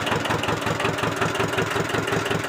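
A Kubota L1501 tractor engine runs at a steady idle, close and loud, with an even low throbbing pulse and no voices.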